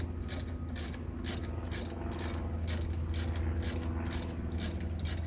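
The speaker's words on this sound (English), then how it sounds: "Tighten up your bolts, they just go in place." Rapid ratchet clicking in steady bursts, about eleven strokes, as brake bolts are tightened on a Ford F150 4x4, close and loud over a constant low hum.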